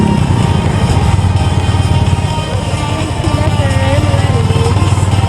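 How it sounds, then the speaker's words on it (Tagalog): A motor runs overhead at a long tourist skywalk in Tagaytay with a steady, loud, droning hum. It holds without a break under crowd murmur and faint voices. "Ayun yung motor sa taas."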